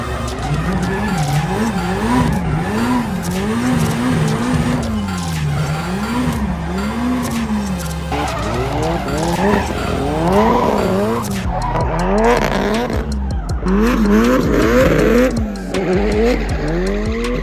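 A Nissan SR20-engined car drifting, tires squealing and skidding loudly and continuously with the engine revving in swooping rises and falls, close and sustained.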